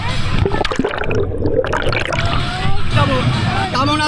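Bathers plunge together into water at the Orakandi holy bathing festival, the splashing and churning of water rising amid a crowd of many loud, overlapping voices.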